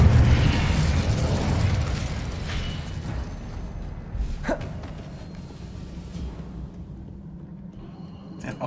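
A blast from the Incendio fire spell in the video game Hogwarts Legacy: a rumbling, fiery burst up front that settles into a sustained roar, with a few short cracks and pops later on, fairly loud throughout.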